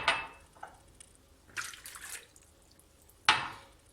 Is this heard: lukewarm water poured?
yes